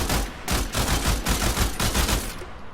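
Burston Prime rifle firing in the Warframe video game, loud rapid bursts of gunfire in close succession, sharp and near, with no talking.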